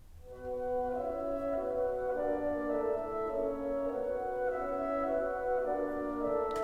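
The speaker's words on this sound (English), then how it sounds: "Claude Debussy was in the midst of working on a 3-part orchestral suite called Nocturnes" Recording of Debussy's three-part orchestral suite Nocturnes, where soft sustained orchestral chords shift slowly and smoothly at an even, hushed level. The sound is steady with no talk over it.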